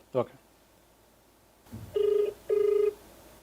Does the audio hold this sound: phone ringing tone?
yes